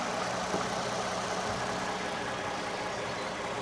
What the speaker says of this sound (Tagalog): tingnan nyo guys kung gaano kapino at katahimik yung engine niya